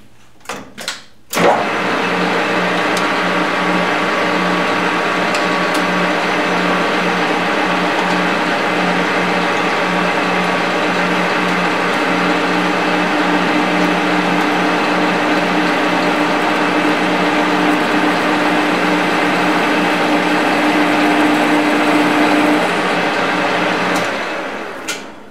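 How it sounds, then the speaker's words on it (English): A machine drills a steering pump pulley at a slow 115 RPM with flood coolant, a loud, steady whir and grind that starts abruptly and runs continuously near the mic before cutting off. "I'm going to drill at 115 RPM"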